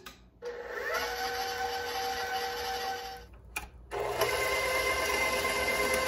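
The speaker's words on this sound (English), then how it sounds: "We're gonna just use the paddle attachment on our mixer" A stand mixer with a paddle attachment creams oils and sugar together for zucchini spice bread, its motor whirring steadily and close, pausing briefly partway through before starting up again.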